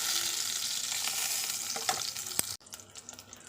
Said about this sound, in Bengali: কাঁচা লঙ্কাগুলো কেটে দেবো খুন্তি দিয়ে।